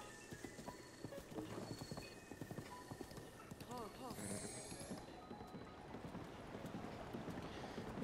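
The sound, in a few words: horse galloping in the video game Zelda: Breath of the Wild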